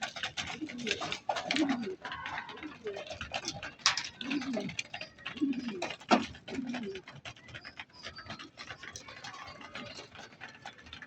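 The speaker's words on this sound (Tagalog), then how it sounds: "Nagpasukan na yung aking mga kalapate." Pigeons coo and rustle inside their loft, a steady mix of soft low cooing and scattered wing and movement noises at moderate distance, with occasional brief voices mixed in.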